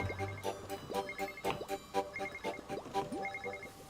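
A telephone in the video game Wuppo rings in a repeated, rapid electronic trill, with bursts recurring at a steady rhythm, layered over game music and effects.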